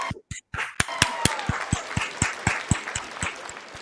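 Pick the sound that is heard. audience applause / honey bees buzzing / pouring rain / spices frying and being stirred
audience applause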